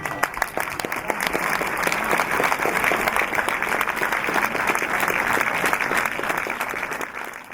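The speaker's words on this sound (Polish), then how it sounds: "Brawa dla twórców filmu." Audience at a film premiere in a cinema breaking into loud, sustained applause, many hands clapping in a dense continuous wash that swells and then tapers off.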